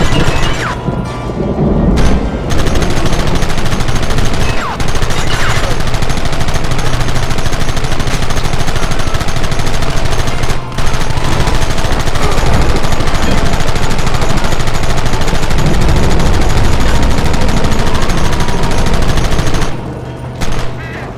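Sustained loud gunfire in Red Dead Redemption, with dense rapid shots and bursts rattling almost continuously for twenty seconds, with only a few brief gaps.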